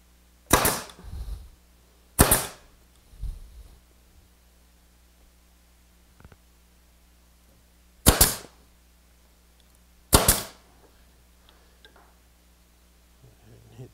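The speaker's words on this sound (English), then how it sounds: "And all we need for this is a nail gun." Nail gun driving nails into a wooden garden bench: four sharp, loud pneumatic bangs spaced irregularly, each with a short tail, separated by quiet workshop pauses and a few faint knocks.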